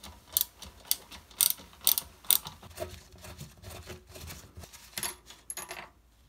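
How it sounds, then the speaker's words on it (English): Metal T-bolt on a toilet seat being unscrewed, giving a string of close, sharp ratcheting clicks and scraping turns in irregular bursts, fading at the end. "Now to the left side, we'll go ahead and remove the additional T-bolt."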